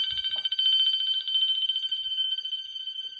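An alarm system under test on its bell setting rings loudly and continuously with a rapid electric clatter, steady for several seconds with no voices.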